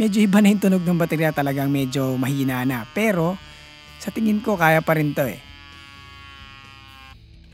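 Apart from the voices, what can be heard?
portable electric bike tire pump running on weak battery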